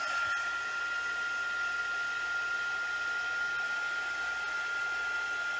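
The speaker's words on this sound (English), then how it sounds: "So let's go ahead and hit this with the heat gun." A heat gun blows on freshly painted wooden blocks, a steady loud rushing hiss with a constant high whine, running nonstop and close by, with no voices.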